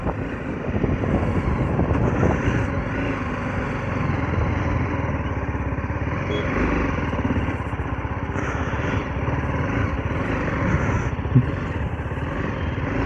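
A BMW G310 GS adventure motorcycle on a test ride, its engine droning steadily and close with constant wind rush over the microphone, pulling through second gear without a break.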